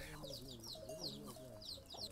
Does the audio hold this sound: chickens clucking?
yes